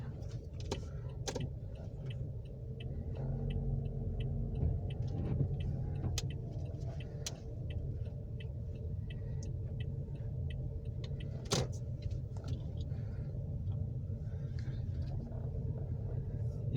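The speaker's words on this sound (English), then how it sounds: "Your car is going to make that sound if you accelerate no matter what." A car driven by a first-time learner hums along with a steady low engine rumble and road noise, with scattered light ticking and clicks throughout and no speech.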